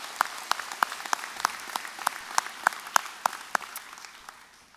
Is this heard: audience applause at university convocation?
yes